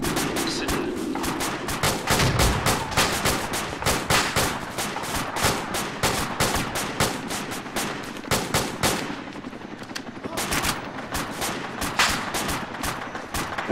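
Gunfire in a military video game mission: dense, loud bursts of automatic fire crackle almost continuously, with rapid rhythmic shots and heavier booms layered over the whole stretch.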